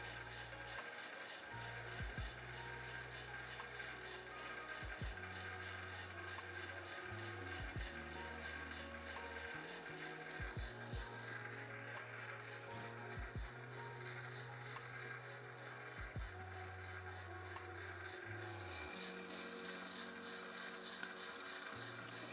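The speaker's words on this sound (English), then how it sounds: "First crack at around 5 minutes." Coffee beans cracking inside a Skywalker Smol Cubean/Nova roaster: scattered sharp pops and snaps over a steady, loud mechanical drum whir and motor hum, with no talking.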